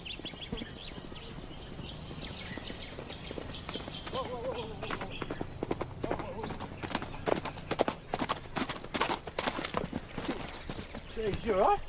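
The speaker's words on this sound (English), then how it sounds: "neither was a horse" Horse hooves clip-clop in a steady run of close, sharp knocks that quicken and grow louder toward the end, with faint voices in the background.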